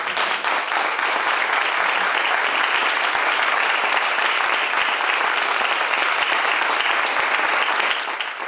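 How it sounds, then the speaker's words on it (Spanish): Sustained, dense welcome applause from a lecture audience, loud and steady throughout, tapering slightly at the very end, with no talking over it. "os pido un aplauso muy fuerte de bienvenida para Víctor Morales"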